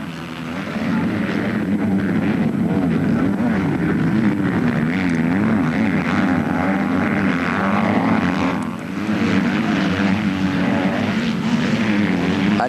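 Yamaha 250 motocross bikes racing at MXGP Ireland in the MX2 class, a loud continuous blare of high-revving two-stroke engines that rises and falls as the bikes pass, with a short dip in the middle.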